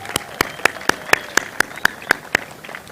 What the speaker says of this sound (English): Please join me in another heartfelt round of applause for the master's graduates of the American University of Iraq, Suleimani